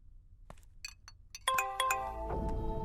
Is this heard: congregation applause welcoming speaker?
no